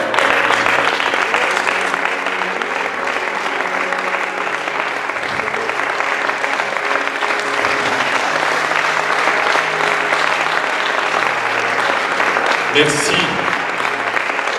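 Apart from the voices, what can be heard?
audience applause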